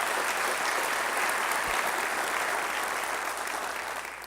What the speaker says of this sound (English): Let's give them a round of applause, and Samantha as well.